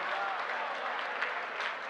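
An audience claps steadily at a Hindi comic poetry recital, a dense, sustained patter of many hands filling the hall without pause.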